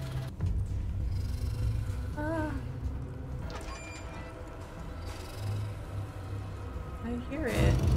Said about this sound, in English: It's like purring.